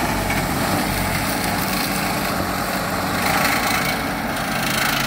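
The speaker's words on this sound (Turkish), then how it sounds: "Evet traktör geçiyor arkadaşlar" A tractor passes by on a village farm road, its engine a steady, loud rumbling drone that stays constant throughout with no voices.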